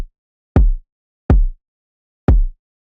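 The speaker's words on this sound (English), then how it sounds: "One sample is for the body of the kick" Three isolated hits of a deep, booming electronic kick drum body sample, each with a fast attack and a short decaying low thump, evenly spaced and heard alone in silence.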